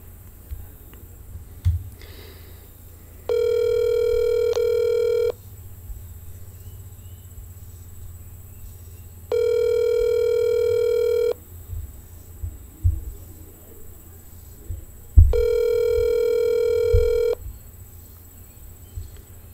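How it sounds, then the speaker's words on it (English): An unanswered telephone call rings three times in the earpiece, each steady electronic ring lasting about two seconds with pauses between, loud over a low background hum and a few faint knocks. "Nobody answers the phone anymore."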